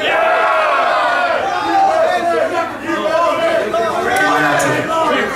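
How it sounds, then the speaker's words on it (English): A concert crowd at a heavy metal show in Ventura, California roars and shouts continuously, a loud, dense wall of cheering voices with scattered yells rising and falling throughout. "Let me hear you cheer for British heavy metal."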